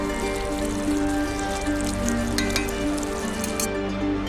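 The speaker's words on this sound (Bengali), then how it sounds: "এক দু মিনিটের মতো ঝোলটাকে ফুটিয়ে নেব" Fish curry with chopped coriander leaves simmers in a pan, giving a steady, close sizzling bubble that holds evenly throughout with faint pops and no talk.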